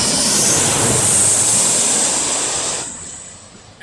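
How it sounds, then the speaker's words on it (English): A Boeing 737 airliner lands in heavy rain as a loud, broad roar of engine and rushing noise that holds steady, then fades in the final second as the aircraft moves away. "got a 737 landing here"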